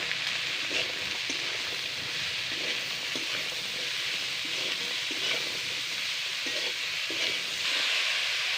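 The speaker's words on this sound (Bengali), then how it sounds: "ভালো করে নেড়ে নেব" Ivy gourd frying in a pan with turmeric and salt gives off a soft, continuous sizzle, with gentle scraping stir strokes recurring at intervals and no voices.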